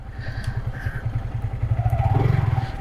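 A motorcycle being parked idles with a steady low putter and a few small clatters, close by, with no talking.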